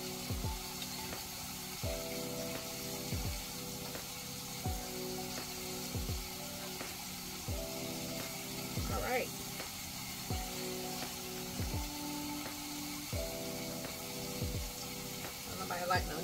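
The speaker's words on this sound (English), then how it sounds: "let me hurry up so I can flip my shrooms" Mushrooms sizzle steadily in a pan under a continuous low hiss, with periodic scraping as they are turned and a person talking nearby.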